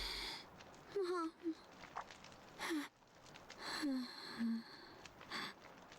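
A character's heavy, labored breathing in Ys X: Nordics, rendered as a few quiet wheezing gasps and sighing breaths at intervals, faint and close, alongside spoken voices.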